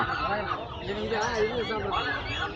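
A large chicken at an outdoor market in Chennai calls out in throaty, bubbling clucks while a person talks over it nearby.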